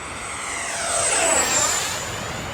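An FMS 64mm EDF J-10 RC fighter jet passes in flight with a steady, airy ducted-fan whine. The whine swells and shifts in pitch as it goes by, fairly loud and with no voices.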